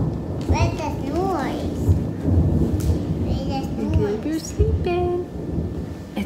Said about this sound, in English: Lightning and the thunder.